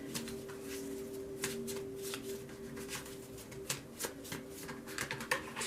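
Oracle cards being shuffled by hand: a steady run of soft, papery riffling and flicking, close and fairly quiet, continuing throughout with a low hum beneath and no talk.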